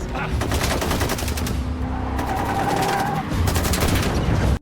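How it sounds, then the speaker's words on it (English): Sustained automatic gunfire from gangsters in a movie chase scene, rapid loud bursts rattling nearly nonstop with a short lull midway, then cutting off abruptly. "Mexican gangsters ram them with a jeep and unleash automatic gunfire."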